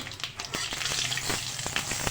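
Crushed whole coriander seeds hitting hot oil with cumin in a pan for a potato and spring onion dish, giving a soft, steady sizzle with scattered small pops and crackles, fairly quiet, with no voice.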